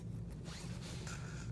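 Scissors cutting through a sheet of folded paper for a heart-shaped art project, a few close, quiet rasping snips and swishes over faint room hiss.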